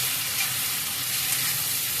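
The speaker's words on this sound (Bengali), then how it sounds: "টমেটোটা দিয়েও কিছুক্ষণ পেঁয়াজের সাথে নাড়াচাড়া করব" Onion and tomato sizzle steadily in a hot pan as they are stirred, a continuous close crackling hiss with no talk over it.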